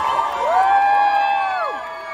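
An audience at a community gathering on global warming cheers after student speakers, with a loud sustained whoop rising and falling over a crowd murmur, though little distinct clapping stands out.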